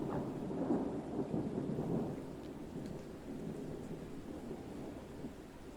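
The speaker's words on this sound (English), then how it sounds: "I can hear rain, I think it is." A thunderstorm in a video game, with steady rain and a low rumble of thunder that swells early and then settles into a continuous wash of rainfall, with no talk.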